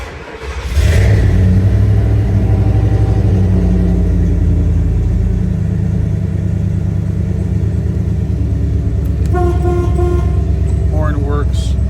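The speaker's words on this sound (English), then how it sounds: "Horn works." A restored 1979 Ford Bronco sits idling with a steady, loud engine rumble, then a few short horn toots sound near the end. A voice is faintly audible.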